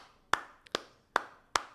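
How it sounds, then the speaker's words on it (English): A baseball play-by-play commentator calling ALDS Game 3, Orioles at Rangers, claps his hands four times in a slow, even rhythm. The claps are close, sharp and alone, with quiet gaps between them. "give Nathaniel Lowe a round of applause for that"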